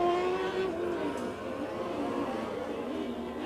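A race car with a Yamaha R1 motorcycle engine screams past at a dirt-track Big Cars main event, its loud, steady engine note sliding down in pitch as it passes, with a faint voice under it.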